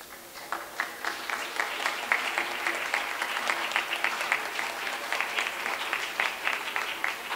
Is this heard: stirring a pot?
no